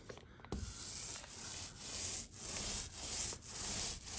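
Foam paint roller rolling across a door, a close raspy rubbing swish repeated in even back-and-forth strokes about every half second.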